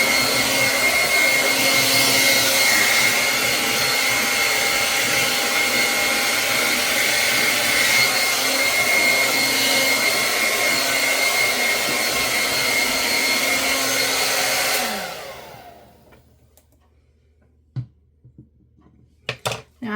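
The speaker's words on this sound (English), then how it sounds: "This blow dryer is really loud." A John Frieda hair dryer blowing hair dry, a loud steady motor whine and airflow roar running close for about fifteen seconds before switching off, followed by a few faint clicks.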